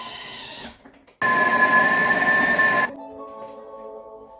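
Thermomix TM6 kitchen machine heating and softening chapati flour: a steady motorized whir with a tonal hum runs for under two seconds after a brief pause, then stops and gives way to quiet background music.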